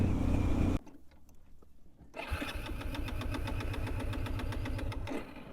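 A Bajaj Pulsar 220F motorcycle engine running low on petrol: loud running cuts out abruptly, goes quiet for over a second, then restarts with a rapid, uneven thumping idle.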